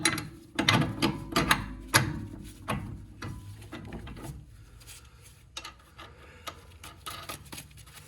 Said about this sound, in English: So I'm going to use the floor jack here to